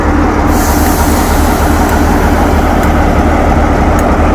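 A vintage train at Mallaig station, a steam locomotive at the front and a diesel at the back, gives a steady loud idling rumble with low engine drone throughout, no talk.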